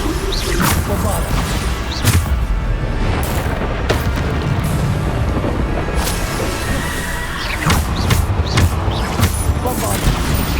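Repeated Bombarda blasting spells in Hogwarts Legacy combat: a steady run of loud, booming magical explosions and crashes, each burst sharp and dense, piling over one another through heavy in-game battle noise.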